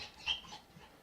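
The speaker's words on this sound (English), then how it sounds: "and that's my dog." Dog in Minecraft gives a short, faint whimpering yip with light panting breaths, a brief high whine near the start, alone without talk.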